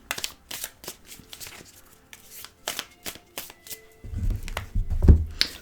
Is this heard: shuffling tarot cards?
yes